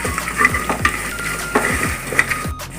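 Chicken being stirred in a pan for biryani, with repeated scraping strokes and light metallic clinks of a utensil against the pan over a soft sizzle, close and fairly loud, no talking.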